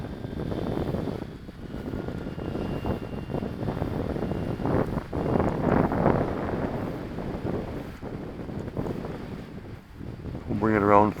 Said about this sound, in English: It's just a little windy here